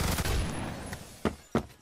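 Two sharp gunshots ring out in the first-person shooter Phantom Forces, loud and close, about a third of a second apart near the end, after a stretch of softer in-game gunfire and background noise.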